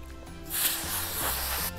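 Hair color spray from an aerosol can hisses in a loud, steady close-up burst lasting about a second, with a low tonal hum running underneath.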